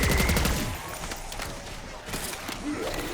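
Gunfire in a zombies video game as shots are fired at the Mangler, with a heavy burst at the start giving way to quieter, scattered shots and game noise.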